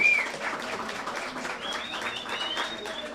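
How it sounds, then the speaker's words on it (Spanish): An audience at a Halloween science event gives a fairly soft round of applause for a guest, steady clapping over a few seconds with a faint whistle-like tone. "Démosle un aplauso a Karen."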